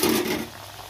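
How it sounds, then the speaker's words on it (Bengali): Khasta gaja dough dropped into hot oil sets off a short, loud burst of hissing sizzle that quickly settles to a softer, steady fry. "তেলটা গরম হয়ে গেছে, এবার আমি তেলের মধ্যে একটা করে দিয়ে ভেজে নেব"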